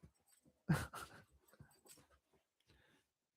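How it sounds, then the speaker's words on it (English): Dogs pant and whimper faintly in short, scattered bursts, with one louder burst early on before the sounds fade into quiet. "Crazy dogs."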